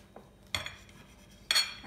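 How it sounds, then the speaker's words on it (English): A sharp knife cuts through a loaf of whole wheat focaccia on a board, giving two crisp, fairly close crunching strokes about a second apart with quiet pauses between. "it's pretty easy to cut into this if you have a sharp knife"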